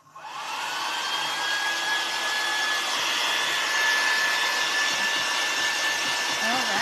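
Hair dryer drying paint on a scrap wood snowman craft, a steady whirring blow with a high whine that starts abruptly and runs continuously and fairly close.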